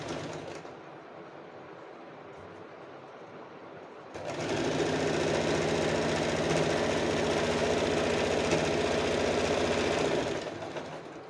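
A sewing machine runs steadily as it stitches a folded blouse strip with a single straight line. The close, rapid mechanical whir starts after a quieter stretch and holds at an even pace before it eases off near the end.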